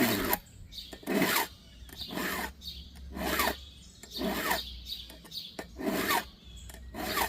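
A file sharpening a scalloped blade edge makes rhythmic rasping strokes, about nine or ten close back-and-forth scrapes at an even pace, loud and gritty, with faint birdsong in the background and no talk.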